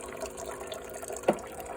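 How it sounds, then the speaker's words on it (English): Hot water from a Mr. Coffee machine trickling steadily into a container, faint and close, with one brief louder splash near the end. "So I've got my Mr. Coffee here giving me some hot water."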